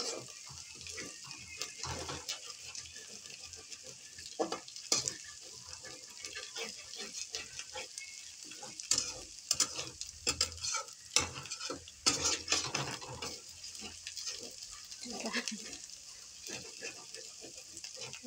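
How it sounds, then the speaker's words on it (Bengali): Curry with spices being stirred in a pan, a soft continuous sizzle of frying with scraping strokes of the spoon recurring throughout, fairly quiet and close. "এরপরে মশলা দিয়ে একটু নাড়ানাড়ি করে এর মধ্যে"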